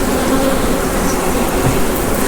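Honey bees from an open hive being split into a new colony make a dense, continuous buzzing drone. It is loud and close, steady throughout, with no speech.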